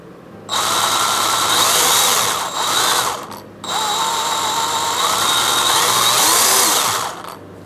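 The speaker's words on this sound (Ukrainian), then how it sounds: "Оберти в даній пилі можна регулювати, так як тут є плавний пуск" Milwaukee M12 FHS cordless chainsaw with variable speed whirs loudly and steadily, pausing briefly twice as the trigger is released and pressed again, its pitch swelling and settling with the throttle.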